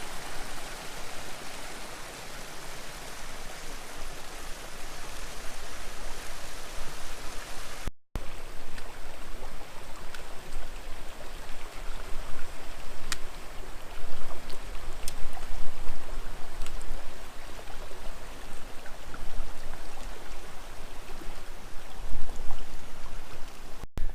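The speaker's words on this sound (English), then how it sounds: "There's like dual waterfalls that works its way downstream." Twin waterfalls pour from a lake outflow downslope toward the next lake in a high mountain basin, giving a steady, loud rush of water that holds without pause.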